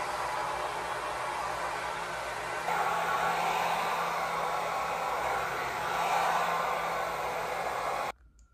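A hair dryer runs steadily while drying hair, a continuous loud airy whoosh that shifts slightly in pitch partway through, then cuts off abruptly near the end.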